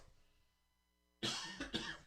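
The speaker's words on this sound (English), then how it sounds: "got that COVID cough" A single person coughs loudly and close up, a harsh burst followed by a second rougher cough after near silence, attributed to a COVID cough.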